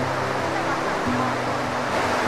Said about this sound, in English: Waterfalls on the edge, people going behind it.